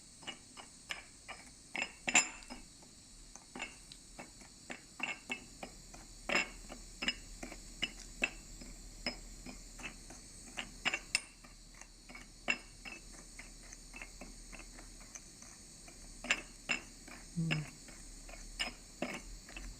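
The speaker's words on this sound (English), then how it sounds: "Instead of shaking the whole test tube, we stir the anhydrous blue, the hydrated blue copper sulfate." Hydrated blue copper sulfate being stirred inside a glass test tube while heated, producing faint, irregular clicks and taps of a stirrer against glass, quiet over a steady background hum.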